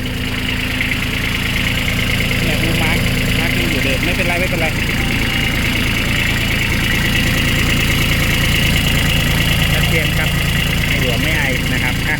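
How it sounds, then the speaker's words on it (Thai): A used 2023 Kubota B2140S tractor with about 360 hours idles close by, a loud, steady diesel rumble with vibration that holds unchanged throughout, while someone talks over it. "เห็นมันกระเด็นอย่างนี้คือเครื่องมันสั่น"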